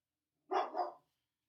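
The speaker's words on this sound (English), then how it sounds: "my dog is literally going nuts at anybody that walks by my house" A house dog lets out a single short, muffled bark aimed at passers-by outside, brief and fairly faint against silence.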